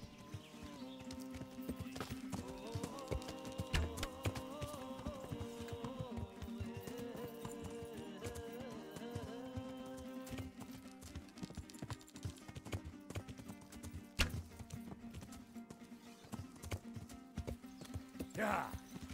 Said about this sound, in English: now I'm making the transition to walking with the horse